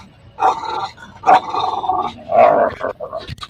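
A dog at close range barks and growls in several short, loud bursts with brief pauses between them, and a person talks in between.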